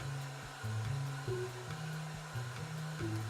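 A blow dryer runs steadily while drying and brushing a man's short haircut, its motor hum wavering in pitch as the airflow shifts, fairly quiet and with no speech.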